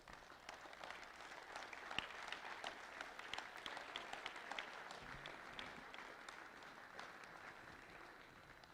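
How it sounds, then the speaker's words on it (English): Faint, distant applause from a crowd at a team wrestling championship homecoming, a steady wash of clapping that carries on for several seconds at low level with no voices over it. "I need you guys and gals to give your foundation a round of applause"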